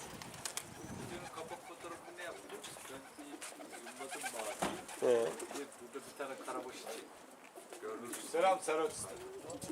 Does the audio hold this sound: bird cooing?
yes